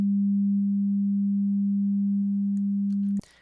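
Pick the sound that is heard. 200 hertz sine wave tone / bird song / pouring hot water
200 hertz sine wave tone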